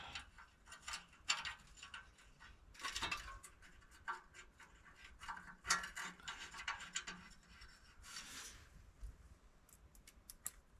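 Ratchet and metal mechanism clicks while a nut is fitted on a Toyota FJ Cruiser stainless steel exhaust, coming in irregular bursts of ticking and rubbing at close range, fairly quiet, with no talking.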